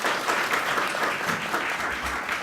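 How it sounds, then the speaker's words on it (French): Audience applause at a school event on the Creole language, a dense, steady patter of many hands clapping throughout, sustained and even with no voices over it. "Sur vos applaudissements."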